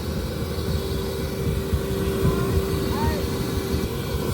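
A blown-in insulation blower machine in an attic runs with a steady, droning motor hum as it starts to spin, and people talk over it throughout.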